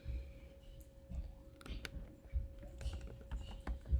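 Quiet, irregular key clicks from a computer keyboard, tapping in short bursts with brief pauses, close by and without talking.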